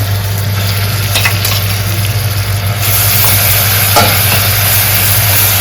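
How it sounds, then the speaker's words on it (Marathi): Masala hitting hot oil in a pan, a loud steady sizzle that runs unbroken, with a constant low hum underneath and no talking. "तेल तापलं ना तर मसाला टाकायचा आहे"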